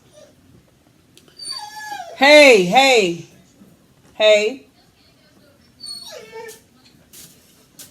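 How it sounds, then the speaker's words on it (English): A dog whimpers and whines in several drawn-out, wavering cries, close by, between a person's short spoken calls in a hot room. "Here we go with this dog."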